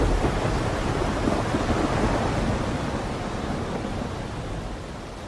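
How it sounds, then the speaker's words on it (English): A thunderstorm roars as a dense, loud wash of heavy rain with low rumbling underneath, steady throughout and slowly easing, with no voices. "That was a storm, huh?"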